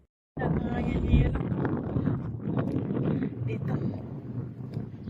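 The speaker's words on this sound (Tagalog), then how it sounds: "Lakas ng hangin." Strong wind rushes steadily across a microphone outdoors on a small farm with fruiting plants, a loud broadband roar beginning abruptly and persisting throughout while a person speaks briefly over it.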